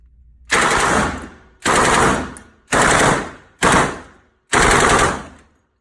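A Thompson submachine gun firing pistol-caliber rounds in five loud, separate full-auto bursts, each a dense rattling roar about half a second to a second long, with short silent gaps between and no talk.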